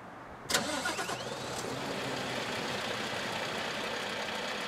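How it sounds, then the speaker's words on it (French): A V8 truck engine in Euro Truck Simulator 2 turns over with a sharp start, then settles into a steady, even running drone that holds alone at moderate loudness throughout. "Et attention, écoutez le camion."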